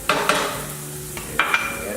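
Diced bell pepper and jalapeno sauté in a pan with a soft background sizzle, broken by a few sharp scrapes and clinks from stirring.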